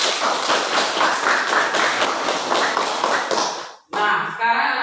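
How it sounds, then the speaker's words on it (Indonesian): A classroom of junior high pupils claps together for a presenting group, a dense, steady burst of many hands lasting a few seconds before cutting off, followed by a teacher beginning to speak. "tepuk tangan dulu untuk kelompok"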